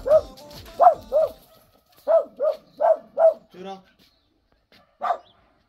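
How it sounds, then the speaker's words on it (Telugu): A small dog barking sharply indoors in the morning, a burst of yappy barks in quick clusters with short pauses, close and loud, then one last bark after a brief silence. "ఇదేమో పొద్దున్నే అందరి మీద అరుస్తుంది పొట్టిది"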